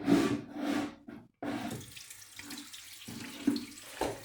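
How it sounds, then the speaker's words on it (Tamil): Hands are washed under a running tap, water gushing and splashing close up in uneven bursts with a brief pause. "திரும்ப போய் கை கழுவிட்டு வாங்க"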